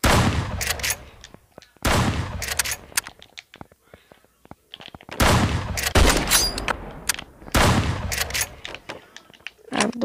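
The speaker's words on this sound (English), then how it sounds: "Let me switch to my shotgun." Shotgun fire in the online shooter 1v1.lol comes as loud, sharp blasts in clusters separated by short gaps, mixed with lighter rapid game clicks and effects.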